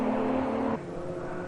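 A red Porsche race car at a Rockingham round of the BRSCC Porsche Cup sweeps past with a loud engine note, dropping sharply in pitch as it goes by and fading into a lower drone.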